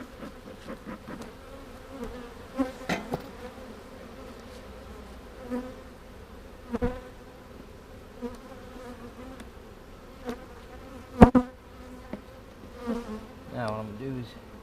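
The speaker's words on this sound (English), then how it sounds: "These bees don't seem to be too upset about me being in here." Honey bees buzz in an open hive packed full of frames during a vertical split, a soft continuous drone with individual bees flying close past the microphone now and then.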